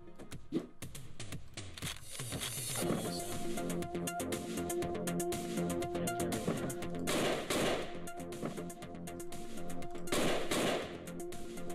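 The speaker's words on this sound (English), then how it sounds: "I love this gun, the revolver." Revolver shots ring out in the video game Hotline Miami, with a few sharp bursts of gunfire over steady electronic game music. The shots land in distinct clusters, moderately loud against the music bed.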